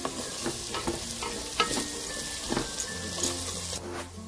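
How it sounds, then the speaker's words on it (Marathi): Chili powder, including byadgi chili powder, sautéing in hot oil, a close crackling sizzle broken by repeated scraping stirs of a spoon, steady and without talk. "छान तेलामध्ये आता परतवून घ्यायचंय आपल्याला"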